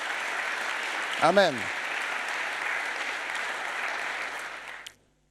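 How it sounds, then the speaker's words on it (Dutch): A church congregation applauds steadily, a broad even wash of clapping that runs throughout, with a brief spoken word over it, before the clapping fades out near the end. "Geef een applaus aan de Heer."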